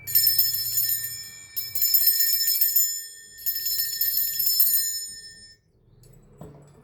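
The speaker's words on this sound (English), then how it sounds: "I'm going to ring this bell." A small hand bell rung to cleanse a space gives bright, sustained ringing tones in three separate bursts, each fading out, with a soft low thump near the end.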